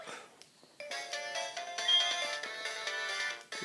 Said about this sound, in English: So I'm gonna heal my Pokemon.